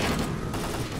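Dense, continuous gunfire from the S.T.A.L.K.E.R.: Call of Pripyat video game, a steady loud barrage with no clear gaps between shots, no talk.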